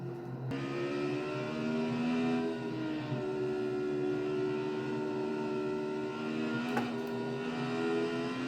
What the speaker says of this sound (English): We're driving a Radical SR3.